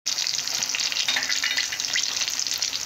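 Cut potatoes frying with lightly fried onions in a pan, giving a loud, dense, unbroken sizzle as they are stirred, close and steady throughout.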